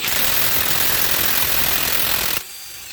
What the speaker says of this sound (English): I'm going to see if this bolt will come out, the crank bolt.